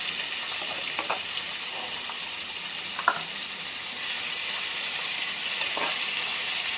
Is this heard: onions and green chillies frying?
yes